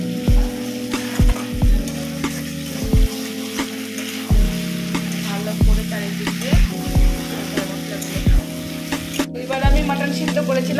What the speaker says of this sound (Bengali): আর একটু গ্যাসের ফ্লেমটাকে বাড়িয়ে নিলাম, বাড়িয়ে এবার একটু আমি ভালো করে কষিয়ে নেব